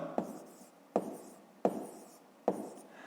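A pen on paper writes numbers for a fifth-grade math exercise, giving four soft, evenly spaced taps and scratches, close and quiet.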